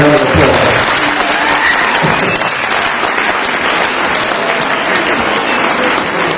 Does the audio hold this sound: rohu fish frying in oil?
no